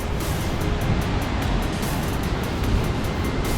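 Foster Falls waterfall in Tennessee running with heavy flow, a steady, loud, broadband roar of pouring water that fills the whole stretch without pause.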